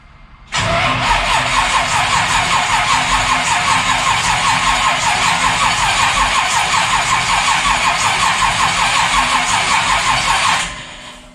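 An old car engine cranking over without catching: a loud, close, rhythmic churning of the starter that runs steadily for about ten seconds, then stops.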